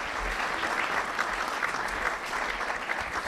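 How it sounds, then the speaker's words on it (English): A luncheon audience at the National Press Club applauds a guest, a loud, dense burst of clapping that holds evenly for a few seconds. "How about a round of applause?"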